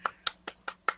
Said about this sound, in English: So a round of applause for team opposition.